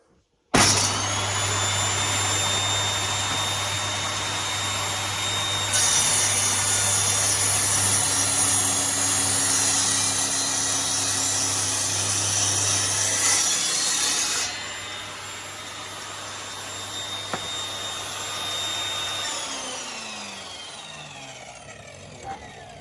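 A power saw cuts a piece of wood set against a guide rail, with a loud, continuous motor whine and rasping blade noise that holds steady for about twenty seconds and then winds down as the blade slows.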